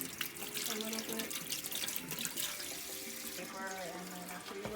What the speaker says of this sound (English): Get some water going here, and I'm just gonna kind of rinse them off a little bit.